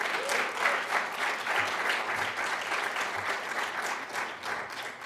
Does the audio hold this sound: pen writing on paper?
no